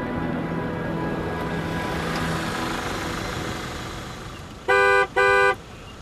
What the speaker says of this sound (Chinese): 别按喇叭了，我马上就走。